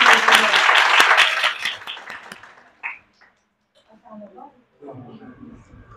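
Audience applause at a training session in Multan, a dense burst of clapping filling the first couple of seconds before thinning out, followed by scattered quieter sounds and a hint of voices.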